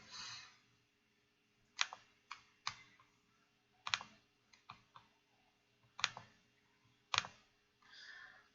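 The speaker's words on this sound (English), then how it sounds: "so let's type in something" Keystrokes on a computer keyboard arrive in short irregular bursts of sharp clicks, with quiet gaps between groups, close and clear with no voices.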